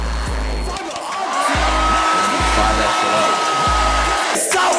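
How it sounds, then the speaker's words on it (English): A handheld blow dryer runs steadily and loudly throughout, blowing on gel-soaked hair being shaped into liberty spikes, its airflow roar broken by a few brief low thumps. "take a blow dryer."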